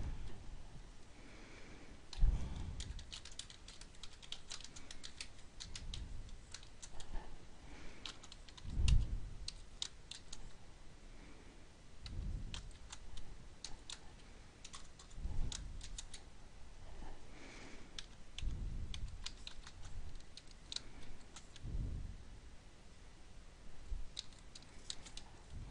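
Computer keyboard typing in irregular bursts of clicky keystrokes with periodic louder thumps, close and fairly quiet, with no talking.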